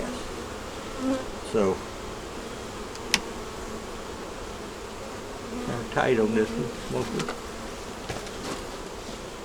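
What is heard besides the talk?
bees buzzing around a beehive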